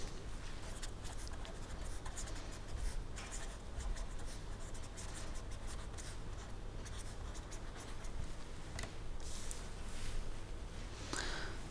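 Steady pen or chalk strokes on a writing surface during a statistics lecture on multivariate analysis, a continuous scratchy rubbing that runs quietly throughout with no talk over it.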